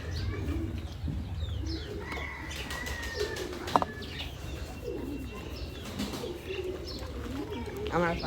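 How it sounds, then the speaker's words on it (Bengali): Loft pigeons feeding give a constant throaty cooing chorus, with occasional wing flaps and chirps, while someone speaks intermittently over the birds; one sharp knock sounds midway. "পায়রাগুলো সব খাবার খাচ্ছে এখন"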